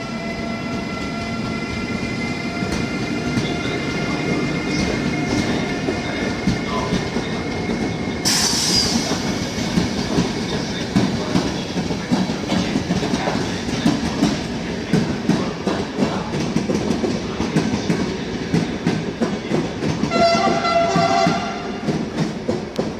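An Italian historic train hauled by an E444R electric locomotive rumbles past with steady clickety-clack from the wheels and a brief high squeal, continuous and fairly loud throughout.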